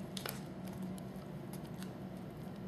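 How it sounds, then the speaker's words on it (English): Scissors snip through Whisper White card, cutting out a circle as a backing for vellum; close, steady crisp cutting sounds with several sharp snips, no talking. "So what I did was I cut out a circle"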